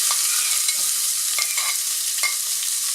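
Chopped garlic sizzles in olive oil in a still-wet pot, a loud, steady frying hiss close by, with a few scraping stirs and no one talking.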